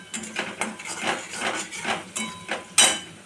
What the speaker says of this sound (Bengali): এবার এটার সাথে আমি নাড়াচাড়া করবো।